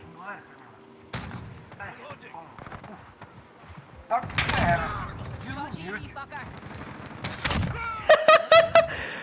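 AK-47 gunfire in a video game: several sharp single shots and short bursts, loud and close, spread over the stretch with gaps between them, with players talking and laughing throughout.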